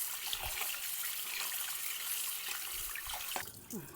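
Rice is washed under a running tap, with water splashing and trickling steadily into a container nearby and occasional soft sloshes of grains being stirred.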